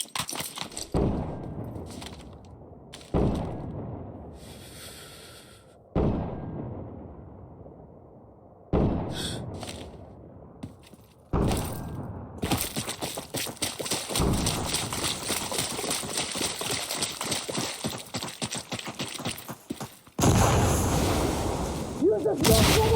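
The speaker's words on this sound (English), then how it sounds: "Hey, we need you to fire smoke rounds at this position." Smoke mortar rounds firing and landing in the video game Insurgency Sandstorm: a series of heavy, booming thumps spaced a few seconds apart, each dying away, then giving way to a loud, dense, continuous roar of gunfire and rushing noise.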